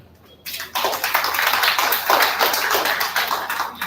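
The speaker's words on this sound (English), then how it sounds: "A big round of applause for the SCPS" Audience applause at an office inauguration ceremony in Bhubaneswar, starting abruptly after a quiet moment and rising into a dense, steady burst of many hands clapping close by.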